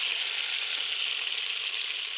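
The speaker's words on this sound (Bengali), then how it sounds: "দেখুন কত সুন্দর করে বেগুনগুলো ভেজে নিয়েছি লাল লাল করে" Eggplant slices frying in hot oil give off a steady, dense sizzle that holds at an even level throughout, with no voices over it.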